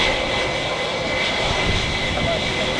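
A Loganair ATR 72 turboprop takes off at Manchester Airport, its engines a steady loud roar with a faint tonal whine, heard from outdoors in the wind.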